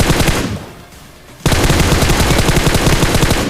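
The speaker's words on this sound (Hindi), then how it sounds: "राइट साइड से कुछ फायरिंग शॉट्स आते हैं" Loud automatic gunfire rattles from one side during a battle royale match, with a rapid burst, a brief lull and then a sustained, dense stream of shots.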